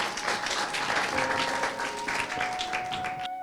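Applause from a church parish congregation, a dense patter of clapping held at moderate volume, with a faint steady tone running underneath near the end.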